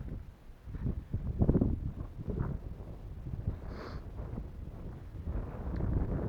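Gusty wind buffets the microphone in uneven rumbling surges on a foggy, damp Carpathian mountain summit, with a soft brief tone in the middle and no talking.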